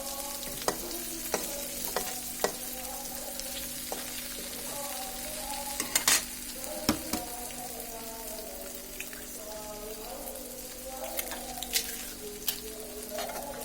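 Egg stirred with frying onions in a pan sizzles quietly and steadily while a spatula scrapes and taps the pan in scattered clicks, some coming in quick clusters.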